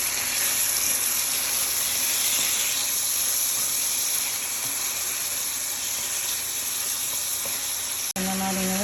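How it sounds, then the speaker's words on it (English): Tomatoes sautéing with garlic and water in a pan for stuffed mushrooms make a loud, steady hiss and sizzle close by, ending with a sudden clunk and a short tonal hum. "And now I'm adding the tomatoes and saute them for just a minute or so."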